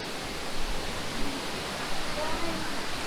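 Waterfall in the Sky Valley and Highlands mountain area, a steady dense hiss of falling water heard close up, constant and unbroken throughout.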